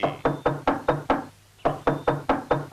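Heavy, evenly spaced knocks on a door, loud and close, in two steady runs separated by a short pause.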